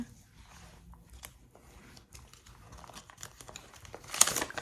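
Paper pages of a binder being flipped and handled, a soft rustling and crinkling close by, ending in a louder brief burst of paper noise.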